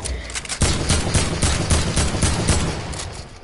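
Rapid bursts of video game gunfire from a Fortnite Creative solo-duo practice match, a dense run of sharp cracks repeating steadily and loud for several seconds with no talk.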